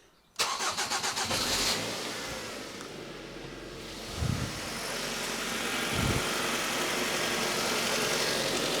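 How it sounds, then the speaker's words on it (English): A Ford Mondeo engine cranks with a rapid chugging stutter after fuel pipe replacement, catches and roars up, then settles into a steady idle rumble with a couple of low revs. "we're just going to fire the car up now"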